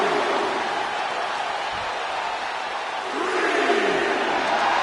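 A large wrestling arena crowd roars steadily for Stone Cold Steve Austin, a dense, sustained cheer with rising swells toward the end and no commentary audible over it.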